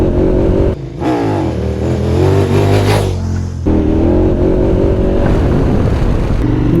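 KTM 1290 Super Adventure motorcycle engine revving hard under acceleration, loud and close, with rising pitch sweeps, a brief drop between gear changes, then pulling strongly again.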